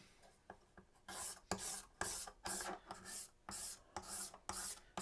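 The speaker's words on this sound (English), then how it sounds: "I'm going to razor blade it one more time before we glue." A razor blade scrapes finish from the wood under the bridge of a Martin acoustic guitar, giving a series of short, soft rasping strokes in an irregular rhythm, close and quiet, with brief pauses between passes.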